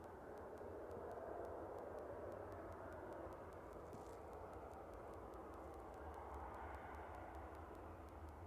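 An Emirates airliner lines up on runway 23 right at Manchester Airport, heard as a faint, steady distant engine rumble and hiss held at a constant level throughout.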